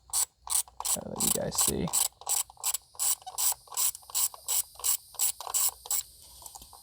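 A ratchet wrench loosening a spark plug on a 2016 Ford Transit Connect, a rapid run of close, evenly spaced clicking strokes after a short spoken remark and some rubbing.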